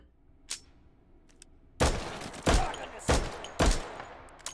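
Gunshots from a firearm in the VR shooter Hot Dogs, Horseshoes & Hand Grenades: one faint early shot, then four loud, sharp reports in an uneven sequence about half a second to a second apart, with no talking.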